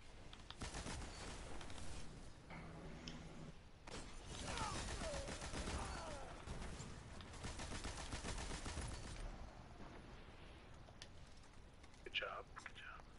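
Automatic machine gun fire in a Destiny Iron Banner match crackles in dense bursts through most of the stretch, mixed with other game effects, while players talk and whisper over it.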